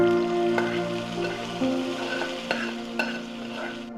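Spiced tempering with a bay leaf poured hot into a mutton bone curry, giving a steady close sizzle and bubbling with a few sharp clinks and stirring sounds, no talk.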